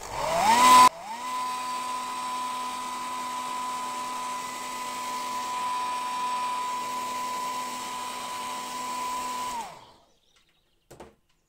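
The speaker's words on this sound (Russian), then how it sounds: "Теперь нам осталось убрать черную метку при помощи горячего воздуха" A hot air tool blows steadily to lift black marker from fabric on a handmade tilda-style fox doll, a loud continuous whine at constant pitch for about nine seconds before it cuts off, followed by a faint click.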